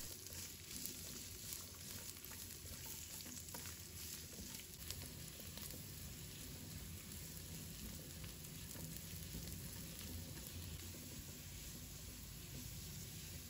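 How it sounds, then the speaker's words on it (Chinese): Ginger slices and garlic fry in hot oil in a wok, giving a steady, even sizzle that runs unbroken and moderately loud throughout, with no voices over it. "油热之后加入准备好的姜片和大蒜，炒香，把大蒜和姜片炒出香味"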